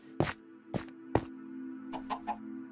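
Chicken clucking in Minecraft, three sharp close clucks in even rhythm followed by a softer run of three quicker clucks over a low steady hum.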